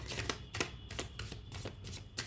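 Tarot cards are shuffled by hand in a series of soft, quick riffling bursts with short pauses between them, quiet and close, with no talking.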